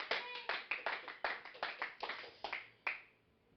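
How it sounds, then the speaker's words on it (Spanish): A small church congregation claps for God in a series of distinct, fairly close hand claps, roughly two per second, ending on a final clap that rings out briefly. "Un aplauso a Dios con todo el alma."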